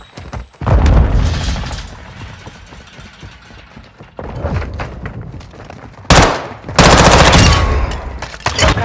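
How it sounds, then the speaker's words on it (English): A Semtex grenade blast and bursts of gunfire in Call of Duty Mobile, a loud boom followed by rattling automatic fire, then another sharp, heavy explosion and more close shooting. "Semtex out!"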